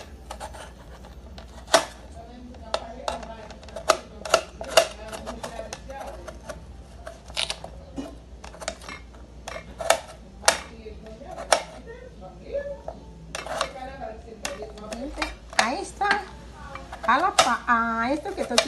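A knife chops potatoes into small pieces on a board in a home kitchen, making crisp, irregular taps close by while a voice talks intermittently.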